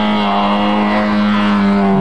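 A Suzuki Swift GTI 1300N-class rally car drives past with a steady, loud, close engine drone that holds a sustained tone the whole time.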